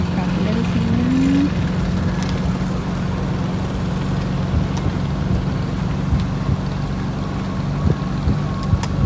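Boat motor droning steadily on the sea at Pacitan, a loud continuous hum mixed with wind buffeting the microphone, with a brief rising tone early on.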